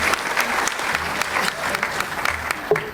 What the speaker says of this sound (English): Another round of applause to the team.